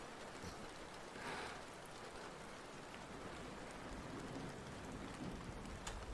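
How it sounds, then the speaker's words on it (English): Morning rain falls steadily, a dense, even hiss of drops hitting surfaces, continuous and enveloping, with no voices or other sounds standing out. "I think it's the morning rain."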